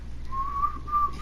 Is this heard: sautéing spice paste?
no